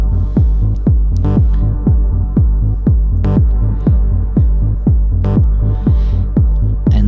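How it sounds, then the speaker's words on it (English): Repeating low Eurorack modular synthesizer pulses thump at a steady rhythm in a minimal techno loop, each hit trailing off into a soft wash of reverb, with occasional higher glitchy accents. "And you hear the reverb going here."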